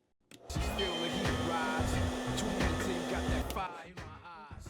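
Heat box fan running on high to preheat before wrapping golf clubs, a steady loud whooshing blower hum that switches on after a moment and runs continuously with a faint tonal whine.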